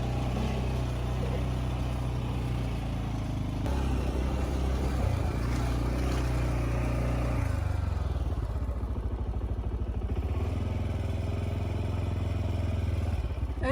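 A motorcycle ride through Manali roars continuously close by, the engine droning with some rattle and shifts in pitch as it changes speed, with no talk over it.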